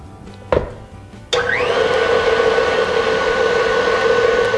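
Electric mixer whirring as it blends tiramisu cookie filling, a short clatter, then a loud, steady motor drone that spins up and runs continuously.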